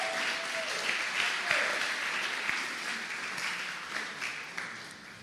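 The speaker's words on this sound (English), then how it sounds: "let's give me a round of applause" An audience at a leadership seminar applauds steadily for several seconds, a dense wash of clapping at moderate level that tapers slightly toward the end.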